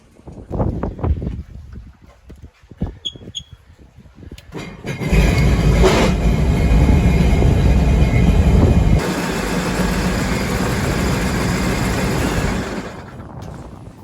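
A Sea-Doo Rotax watercraft engine is warming up: a few faint knocks come first, then the motor catches. It runs loud and steady, easing to a slightly lower hum partway through before cutting off.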